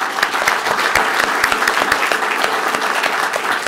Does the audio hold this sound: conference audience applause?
yes